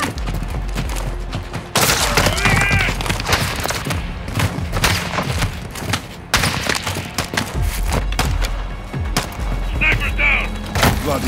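Heavy gunfire in a Call of Duty: Modern Warfare II campaign battle against cartel fighters: loud, dense volleys in several bursts separated by brief lulls, with thuds and splintering impacts and voices shouting among the shots.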